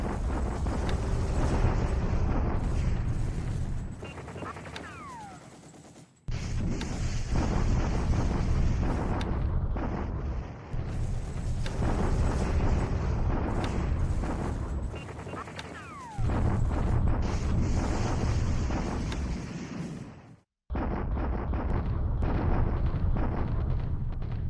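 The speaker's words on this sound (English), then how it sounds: "Counter battery fire was very effective." Counter-battery artillery fire in War in the Pacific: Admiral Edition, a long stretch of dense, rumbling blasts and booms broken by a few short gaps, loud and continuous.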